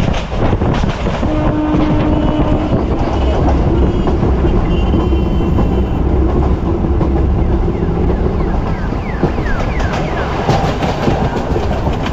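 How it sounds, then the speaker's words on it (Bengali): A passenger train running between Plassey and Debagram after leaving Paglachandi station, with steady loud rumble and rail clatter throughout, wind buffeting the microphone as it moves. "পাগলাচন্ডী স্টেশন ছেড়ে এখন চলে যাচ্ছে ট্রেন"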